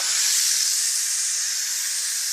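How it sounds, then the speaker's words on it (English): Steam hisses steadily out of the pressure release on a Fagor stainless steel 6-quart 3-in-1 multi cooker, a loud continuous high rush that holds for the whole stretch with no voices over it. "Now we're going to release the steam."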